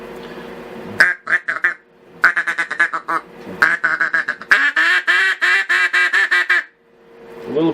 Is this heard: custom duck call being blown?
yes